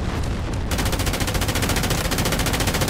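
Rapid automatic gunfire in the video game Delta Force: Hawk Ops, a loud, continuous stream of fast evenly spaced shots filling the whole stretch with no voices over it.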